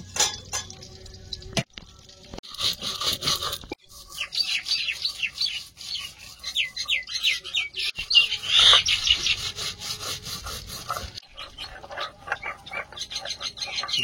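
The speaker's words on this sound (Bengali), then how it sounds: "সকালের মতো আবার পাখি দুটো এসেছে। ঝগড়া করবে।" Two birds chirp and squabble outdoors on a cloudy day, with quick, bright calls bunched mid-way among rustling and knocking sounds, at moderate distance.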